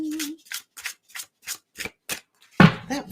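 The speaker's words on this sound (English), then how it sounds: "That felt like such a good shuffle." Quick riffle-style tarot card shuffles repeat in a steady rhythm, seven or eight crisp bursts close by, ending in a louder clatter.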